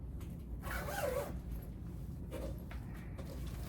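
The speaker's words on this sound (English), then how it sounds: "It's got a YKK zipper." A YKK zipper on a vintage late-1980s leather jacket gives one brief, fairly close zip early on, followed by fainter fabric and handling rustles over low background noise.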